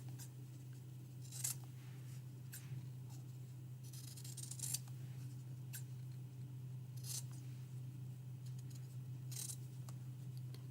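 Scissors cut out a paper piecing template for a quilted candlestick trivet, giving faint, sparse snips and crisp paper rustles over a steady low room hum, with no talk.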